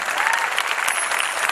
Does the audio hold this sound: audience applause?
yes